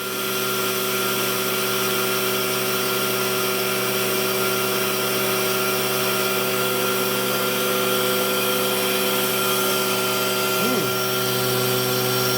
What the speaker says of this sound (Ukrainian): Так, шліфує моторчик.